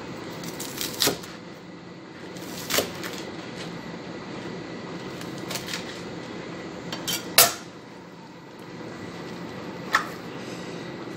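Faint, scattered metallic clinks of a utensil against a pot as bok choy goes into simmering mackerel, spaced several seconds apart over a quiet background.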